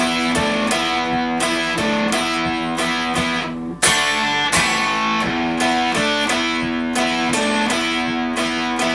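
Distorted electric guitar plays a riff, part 2, with steady picked arpeggiated notes, a short break near the middle, then the pattern resuming, loud and alone.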